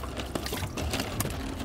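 Live bait is tipped into water on a fishing boat at Botany Bay, giving a short, soft burst of splashing and pouring that is faint and close, lasting under two seconds.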